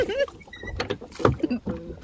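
A small rowboat moves on the river in Durham, UK, with intermittent water sloshes and knocks of the craft among nearby voices chatting.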